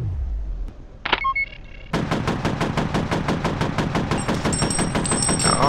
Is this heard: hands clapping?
no